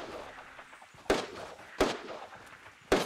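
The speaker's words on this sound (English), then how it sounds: "That's a deagle fight going on." Desert Eagle pistols fire in a Fortnite gunfight. Three sharp, loud reports come roughly a second apart over a low, noisy game background.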